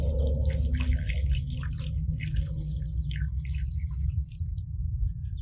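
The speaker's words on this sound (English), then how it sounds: "I'll pour out some water and you can see what happens to the water on these concrete blocks." Water is poured out onto permeable concrete paving blocks outdoors, a continuous splashing, trickling wash over a low rumble that stops abruptly near the end.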